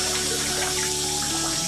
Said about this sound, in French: Alors, la douche est chaude.